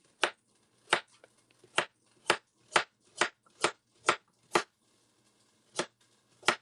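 Chopping carrots with a knife on a cutting board for a beef vegetable soup, about a dozen crisp, evenly spaced chops close up, with no talking.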